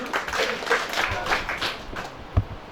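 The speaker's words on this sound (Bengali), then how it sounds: "ওনার জন্য একটু করতালি" An audience at a company introduction event applauds the managing director with continuous, moderately loud clapping and one heavier thump near the end.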